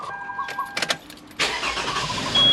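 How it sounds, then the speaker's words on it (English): 2011 Toyota Sienna minivan engine starting in a garage: a few clicks and short cranking bursts, then the engine catches with a loud whoosh and settles into a steady idle, close and without talking. "So first we're going to start the engine."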